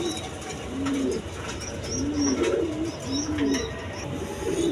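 Caged pigeons of the Giri Golla and Bombai breeds coo in repeated low rolling phrases, close by, with faint chirps and background noise between the calls.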